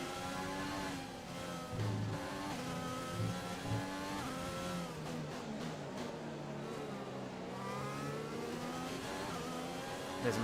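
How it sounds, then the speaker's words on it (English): A French-engined Formula 1 car in F1 2020 revs and races, its rising and falling harmonic engine whine steady and loud throughout, with overlapping tones suggesting other cars nearby. "Got a French engine in the back of this car."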